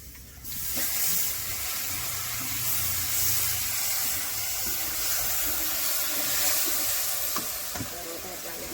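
Ground masala of garlic, mustard and onion fries in hot oil, a continuous dense sizzle up close with faint stirring clicks throughout.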